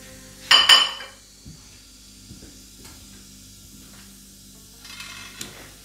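Whole spices (cinnamon, black and green cardamom, cloves, star anise, bay leaf) frying in a pan, opening with a loud utensil clatter and sizzle burst, then quiet faint crackling with a second, softer sizzle near the end.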